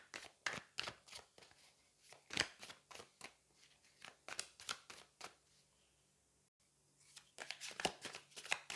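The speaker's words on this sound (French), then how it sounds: "On va prendre une dernière carte ici, puis je prendrai les cartes oracle après." Tarot cards shuffled close up in a quiet room, a rapid run of crisp riffling snaps and flicks with a brief pause near the end before the shuffling resumes.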